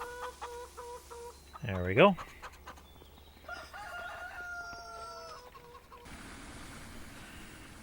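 Chickens cluck and a rooster crows once, loud and close, in a Farming Simulator 25 farmyard, with softer bird calls and clucks around it; someone speaks briefly over the scene.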